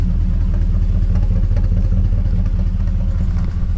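A pickup truck engine with true dual exhaust idles loudly and steadily up close, a deep rumbling exhaust throb with a slight rev near the end.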